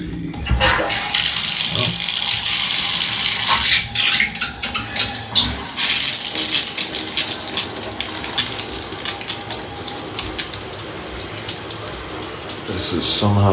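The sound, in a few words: hotel shower head running water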